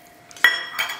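Small stainless steel bowls clink against each other as they are oiled, giving two short metallic chinks in quick succession with a faint ringing tail.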